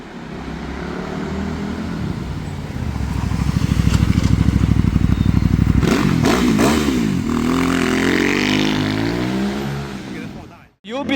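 A Benda 707 motorcycle accelerates hard up close, its engine note building steadily, breaking with a brief clatter partway through, then rising again through the gears over wind noise.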